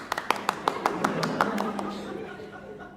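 Scattered hand claps from a theatre audience at a Hindi stage play, about a dozen distinct claps in an uneven rhythm over the first two seconds, then fading, with a voice speaking faintly underneath.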